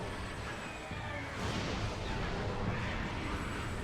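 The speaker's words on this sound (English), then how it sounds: "I want to try and hit him with the super missiles where I can." Super Missile shots fired during a boss fight in Metroid Prime, a heavy burst of blasts and booms over dense game noise, loud and continuous with a sharper swell midway.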